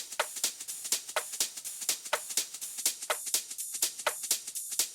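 A group of dance-track percussion plays without its gritty erosion effect, giving a dense, steady stream of bright, crisp high hits in a quick shuffling rhythm, evenly loud throughout.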